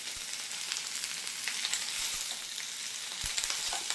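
Curry leaves sizzling in hot oil in a pan while an okra gojju masala is being prepared, a steady close crackling hiss with scattered sharper pops, no talk over it.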